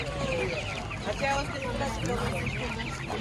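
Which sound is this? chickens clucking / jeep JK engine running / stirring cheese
chickens clucking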